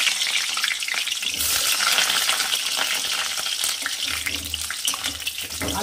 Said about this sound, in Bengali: কড়াইতে তেল গরম হয়ে গেছে